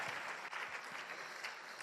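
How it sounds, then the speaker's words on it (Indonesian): Audience at a business motivational seminar applauding, a brief, steady rush of clapping at low level with a few distinct sharper claps scattered through it. "Wah tepuk tangan buat Tiansi One Vision"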